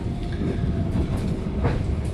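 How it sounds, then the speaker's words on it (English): Passenger train running through snow on the route from Bucharest toward Kyiv, near the Moldovan border: a steady, loud interior rumble of wheels on rail with faint clatter, constant throughout, no voices. "That's what you get when traveling by train through snow."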